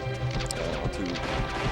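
Two Fox up smash hits landing in a Super Smash Bros. Melee doubles match, sharp crashing impacts over busy game effects and a low hum, with no talk.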